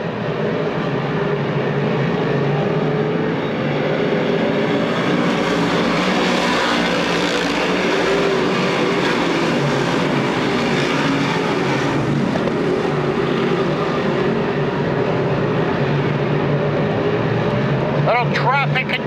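Modified race cars thunder around Grandview Speedway on opening night, a continuous dense engine roar swelling as cars pass, with an announcer calling the race over it.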